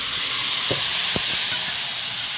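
Pointed gourd, prawns and potato frying in a spiced masala sizzle steadily in a pan, a broad continuous hiss with a few soft stirring knocks.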